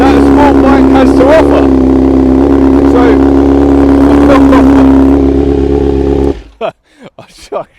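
A BMW S1000RR sport bike engine runs loud and close, a steady rumbling idle with someone talking over it, then cuts off abruptly near the end, leaving brief speech.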